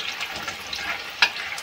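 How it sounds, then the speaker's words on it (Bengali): Water lily fritters (shapla pakora) frying in oil over low to medium heat, giving a steady soft sizzle with a brief sharper crackle near the end. "এতে ভাজবো বড়াগুলো।"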